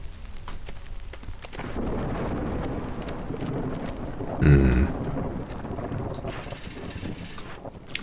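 A storm sweeps over a settlement in the city-building game Against the Storm, with steady rushing wind and rain and a single deep rumble of thunder about halfway through.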